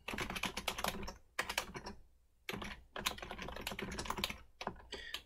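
Rapid clicking on a computer keyboard, close and clear, in dense bursts with brief pauses between runs of keystrokes and no talking.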